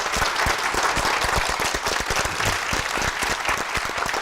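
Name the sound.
audience applause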